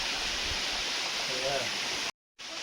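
Steady broadband rush of a waterfall in a natural outdoor spot, loud and continuous with a brief dropout near the end; no clear talking.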